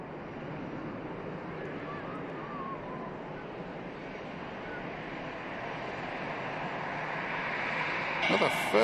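Ryanair Boeing 737 on its landing rollout at Manchester Airport, a steady broadband roar of engines and wind from a distance, slowly building toward the end with a brief louder burst.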